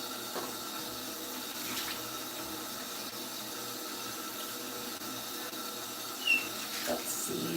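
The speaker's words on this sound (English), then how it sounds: "Just gonna give these a quick rinse too." Tap water runs steadily into a sink while rings are rinsed under it, a constant close hiss with a brief clatter near the end and no one talking.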